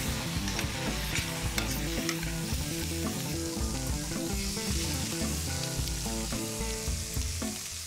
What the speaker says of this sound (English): Give it a stir and allow the tomatoes to cook down until they start to release all their juices,